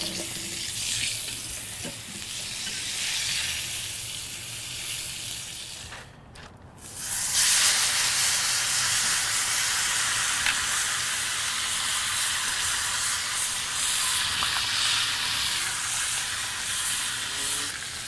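A tomahawk ribeye sears in beef tallow and butter, a steady close hissing sizzle that briefly dips, then surges louder and keeps frying evenly.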